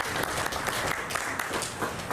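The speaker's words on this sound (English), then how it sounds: "Give Ayah a round of applause" Audience applause for a co-facilitator at a community solar co-op summer gathering, steady, dense clapping from a modest crowd that holds at an even level for a couple of seconds.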